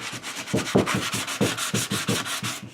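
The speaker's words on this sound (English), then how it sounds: "Just go ahead and give this a flush sand" Sanding a seam flush on a studio-scale escape pod model kit body, a steady run of quick back-and-forth rasping strokes, close and fairly loud with no talking.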